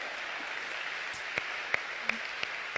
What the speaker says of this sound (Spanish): Así va a aplaudir, aplauda en serio,